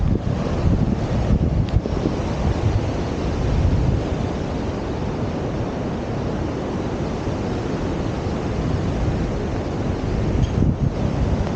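Waves and wind on a shore after a winter storm: a loud, continuous rumble of surf and blustering gusts that buffet the microphone, with no voices.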